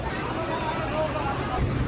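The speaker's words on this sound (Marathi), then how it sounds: "बस स्टँडला सुद्धा गर्दी पाहू शकता इकडे." Dense crowd babble fills a busy MSRTC bus stand packed with travellers during the Ashadhi Wari pilgrimage season, a steady wash of many overlapping voices with faint traffic behind it.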